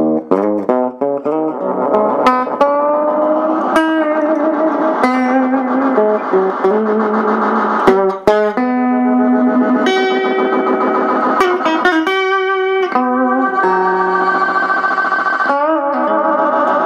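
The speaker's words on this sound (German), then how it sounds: "Hier gibt es den Klangfilter für Echos." A guitar played through an analog echo delay effect pedal, with plucked notes and chords repeating in trailing echoes and a distinct distorted, reverberant tone, loud and continuous with no speech.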